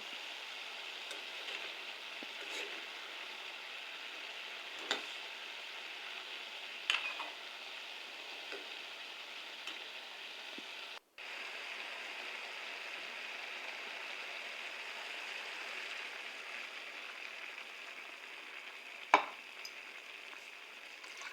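Bottle gourd cooking on a home stove, a steady soft sizzle and bubbling hiss throughout, with a few faint clicks and clinks along the way.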